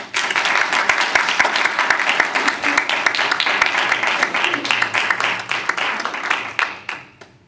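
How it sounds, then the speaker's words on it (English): An audience at a library book talk on Virginia poetry breaks into applause, dense sustained clapping for several seconds that thins and dies away near the end. "round of applause, please."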